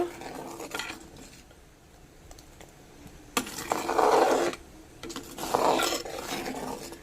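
Chopped onion being mixed with coconut oil in a bowl, with a spoon scraping and stirring in several short bursts between quieter pauses.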